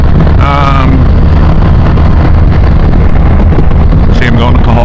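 Loud, constant wind roar buffets the rider on a BMW 1250 RT motorcycle at road speed, a dense rushing blast throughout with brief voice-like tones near the start and end.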